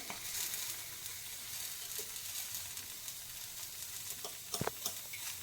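Green beans frying over a low flame in a pan give a faint, steady sizzle, with a few soft stirring clicks near the end and no voices.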